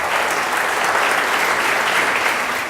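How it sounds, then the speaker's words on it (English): Steady audience applause at a business pitch event, dense continuous clapping filling the room for a few seconds with no talk over it. "Big round of applause for Claude."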